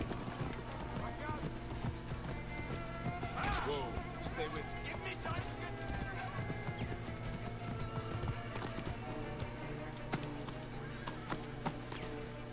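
Rhythmic hoofbeats of a galloping horse with occasional whinnies in Assassin's Creed Origins, set against a steady busy game soundtrack of music and effects, with voices talking over it.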